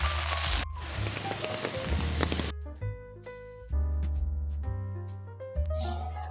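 Rain falling steadily as a broad hiss, loudest in the first half, then partly covered by sustained tonal music that cuts in and out.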